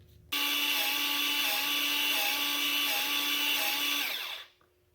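A Milwaukee M12 cordless grease gun whirs steadily at close range for about four seconds with a constant motor hum, then winds down and stops when the trigger is released.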